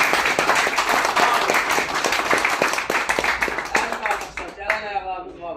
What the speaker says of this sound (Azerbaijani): alqışlayın onları